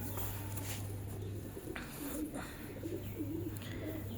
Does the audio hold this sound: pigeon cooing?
yes